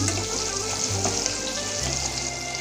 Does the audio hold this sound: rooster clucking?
no